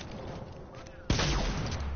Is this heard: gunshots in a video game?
yes